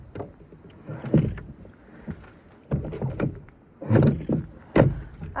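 Oars working a rowboat on a lake in the Swedish Arctic, several close rhythmic strokes with creaking, knocking and water splashes, each pull separated by short pauses.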